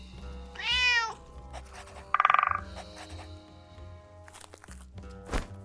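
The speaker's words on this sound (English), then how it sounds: "Where's the angry cat?" A cat meows in the video game Drova - Forsaken Kin: one rising, drawn-out meow, then a short chirpy creak, over a low ambient game background with light footstep-like sounds.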